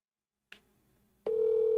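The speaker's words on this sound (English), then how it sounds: "I'm gonna call Keem right now." A phone call being placed: a soft click, then a brief quiet pause, followed by a steady, continuous electronic calling tone that holds clearly and alone until the end.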